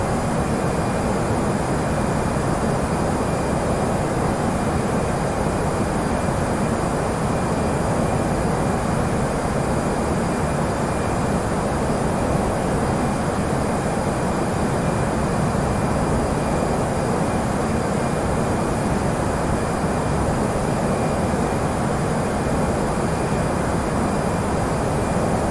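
Steady, loud broadband roar of a Eurowings A320 cruising in flight in the FSX flight simulator, a continuous engine and airflow drone that holds even throughout with no breaks.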